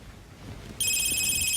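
A telephone rings steadily and loudly indoors, its bright electronic tone starting partway in and continuing without pause over a faint background hiss, in a Thai drama scene.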